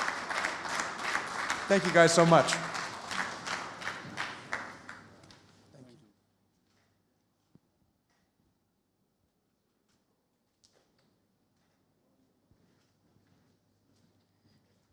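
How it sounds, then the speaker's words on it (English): A conference audience at a medtech event in Malta applauds a panel, a burst of clapping mixed with a speaker's thanks that fades out after about six seconds, leaving near silence. "So give a round of applause to these amazing people on this panel right now"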